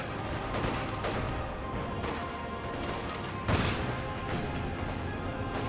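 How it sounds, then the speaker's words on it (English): A Vickers machine gun in Company of Heroes 2 fires amid battle noise, with several sharp bursts and crashes punctuating a dense, continuous din of gunfire and explosions. "Vickers firing away."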